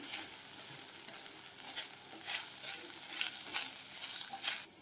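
Katte pongali mixture fries on a medium flame with a soft, steady sizzle and occasional stirring swells, close and continuous without any talk.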